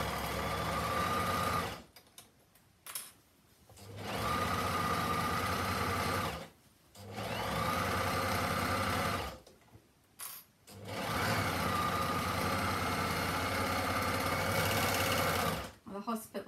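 An overlocker stitches the seams of a drawstring bag, a loud steady whir that runs in long bursts. It stops briefly four times between runs, and nobody talks.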